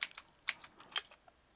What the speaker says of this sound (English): the keyboard sounds in the background are ASMR